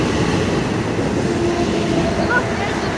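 A Long Island Rail Road Babylon train passes at Woodside, giving a loud, steady rumble of wheels on rails throughout, with people talking faintly over it.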